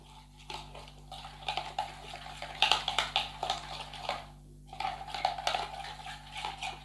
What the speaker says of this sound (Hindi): अब हम इसको मिक्स कर लेते हैं।